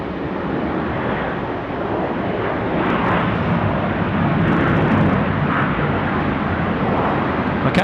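Qantas 737 jet rolling onto runway 16 right at night at Sydney Airport, a loud, steady engine roar with a broad rumble that swells slightly and holds for several seconds, with no talk.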